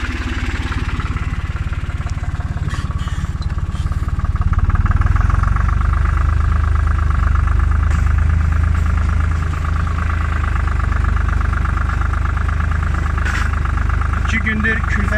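A Tümosan tractor engine pulling a cultivator, heard as a loud, steady low rumble that holds continuously throughout, with a voice talking over it.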